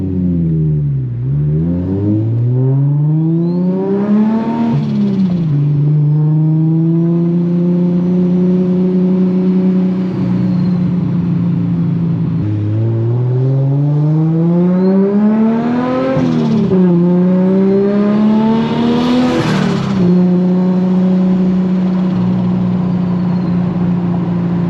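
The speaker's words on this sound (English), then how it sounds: "Car sounds really good" A Nissan R34 GTR engine revs hard while driving, heard from inside the car: loud, smooth climbs in pitch that drop sharply at each gear change, repeating several times, with a steady drone between pulls.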